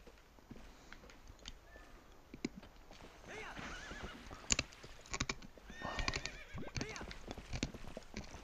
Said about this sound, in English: This horse is hard to control.